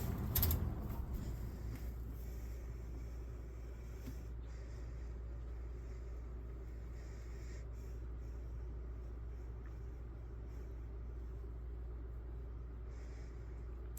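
Lakewood S223 box fan winding down after being switched off, a steady low hum and motor drone that stays fairly even throughout with a faint rattle early on.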